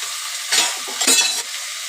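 Mustard seeds, cumin, asafoetida and ginger-garlic paste hit hot oil and crackle loudly, with two bursts of sizzling as ingredients drop in and a steady frying hiss between them.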